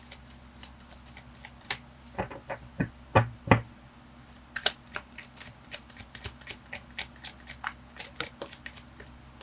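Tarot cards being shuffled by hand, a long run of crisp riffling snaps and flicks in a quick, steady rhythm, close and clear, with a few heavier taps midway.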